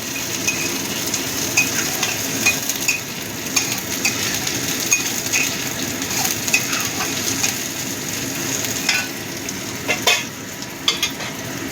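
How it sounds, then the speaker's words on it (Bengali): Onions fry in a pan with chicken stock for butter garlic chicken, a close, steady sizzle broken by frequent spatula scrapes and light metallic taps. "পেঁয়াজগুলো একটু ভেজে নেব।"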